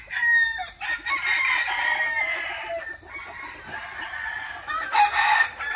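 Caged chickens cluck and crow together, a rooster's crows rising over steady, busy clucking throughout, fairly close and loud with no talk.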